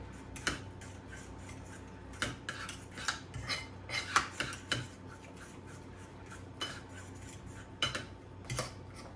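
Hummus ingredients with fresh garlic being stirred together in a bowl: scattered clinks and scrapes of a utensil against the bowl, irregular and fairly close, with a low steady background hum and no talking.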